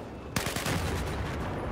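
Gunfire in a multiplayer video game match with a tank on a bridge: a sudden loud burst of rapid shots followed by a continuing rattle of fire, fairly close.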